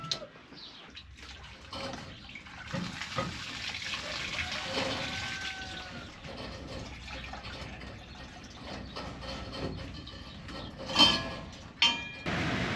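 Water splashes and gushes as it is poured into a container for goats on a windy morning farm, the flow fairly quiet and uneven, with a couple of sharper splashes near the end.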